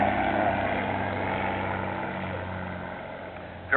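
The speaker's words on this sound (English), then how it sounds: "Very fast, very maneuverable airplane." A propeller airplane drones steadily overhead at a vintage air show, a constant engine hum that fades slightly over a few seconds with no speech.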